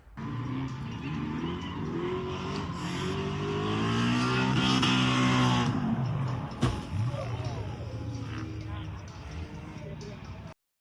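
A BMW E46 race car at Englishtown drones and then strikes the wall with one sharp impact. Tire noise and engine sound build before the hit and fade after it, with a voice speaking over the scene.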